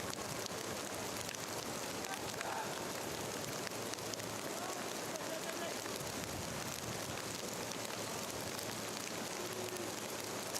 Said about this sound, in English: Heavy rain in Arlington tonight.